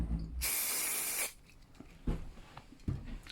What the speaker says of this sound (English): You want it to stick good, so yep, just give it a little spray.